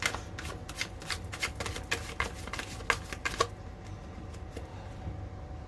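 Tarot cards being shuffled in a quick riffle of crisp flutters for about three seconds, then the noise dies away to quiet room tone.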